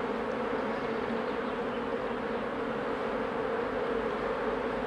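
Honey bees swarm and buzz inside an opened hive where the queen is laying and many drones are present, producing a steady, even drone at moderate volume with no talking.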